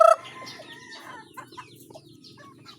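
Hen clucking among a backyard flock of chickens, with several soft, scattered clucks and faint calls at close to moderate distance after a brief louder sound at the start, with no talking.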